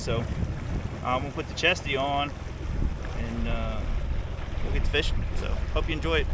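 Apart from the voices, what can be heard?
wind blowing on a lake, microphone wind noise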